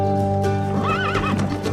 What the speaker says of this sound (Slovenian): Še nikoli se nisem peljal s konjem in kočijo.